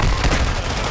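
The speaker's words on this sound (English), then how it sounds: "Somebody shooting somebody." Gunfire in Call of Duty Warzone crackles in a short, loud burst of rapid shots, dense and close, with no other sound around it.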